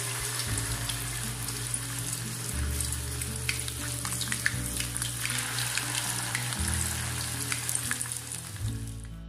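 Grated potato hash browns fry in hot oil in a pan over medium flame, a dense continuous crackling sizzle, close and even, with faint music beneath and no talk.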